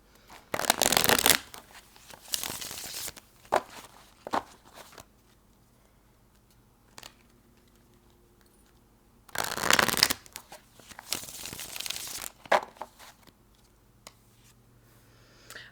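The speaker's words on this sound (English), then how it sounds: "Give it a couple shuffles." A deck of tarot cards being shuffled by hand: several brisk riffling bursts in two groups separated by quiet pauses, with soft taps and flicks of the cards between them, close and clear.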